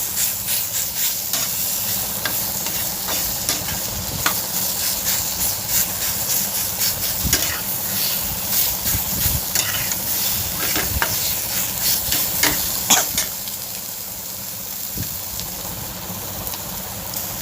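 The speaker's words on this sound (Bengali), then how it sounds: "সেই হিসাবে আমি ভালো করে এটা নাড়াচাড়া করে ঘেঁটে নেব।" Taro greens with coconut being stirred and mashed with a spatula while frying, a steady hiss of sizzling under repeated scraping and clacking strokes against the pan, close and continuous.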